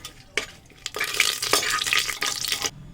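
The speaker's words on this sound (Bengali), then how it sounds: "তেল গরম হয়ে গেছে, দিয়ে দেবো শুকনো লঙ্কা, তেজপাতা, দিয়ে দেবো 1/2 চামচ চিনি। ভালো করে ফোড়নটাকে একটু ভেজে নেব।" Dried red chillies, bay leaf and sugar fry in hot mustard oil, crackling and sizzling with several bright bursts and a steady spitting hiss, close and loud, with no talk.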